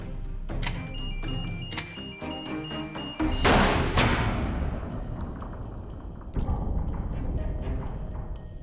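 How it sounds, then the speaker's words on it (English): An automated 9mm rifle fires a bullet at a combat helmet. After a few light mechanical clicks, a single sharp, loud crack lands with a ringing decay, and further clattering follows. "The rifle is loaded and fired."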